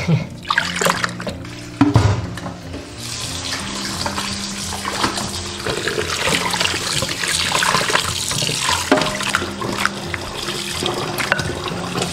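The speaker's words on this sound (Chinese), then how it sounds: "先把牛排骨清洗干净。" Beef ribs with the skin on rinsed under a running tap, a steady close splashing gush of water with shifting clatter as the meat is handled, lasting throughout.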